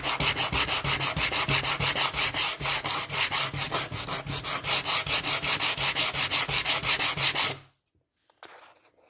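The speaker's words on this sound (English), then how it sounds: "I've completed the sanding with 60 grit paper" Rhythmic back-and-forth rasp of 60-grit sandpaper on an oak door, close and loud, stroking steadily before stopping abruptly near the end.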